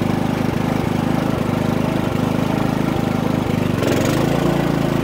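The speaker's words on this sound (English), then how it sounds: "The compressor should kick on very shortly." A 15K air conditioner runs steadily on a Harbor Freight Predator 3500 watt generator, a loud low hum under a rhythmic engine chug, with the compressor kicking on near the end and deepening the drone.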